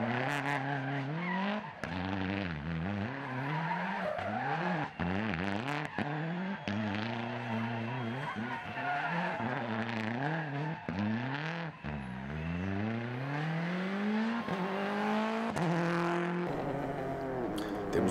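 A Ford Fiesta Rally 3 rally car on a Lisbon super special stage with obstacles, its engine revving hard and rising and falling through gear changes for a long stretch, with tires squealing and skidding, loud and fairly close.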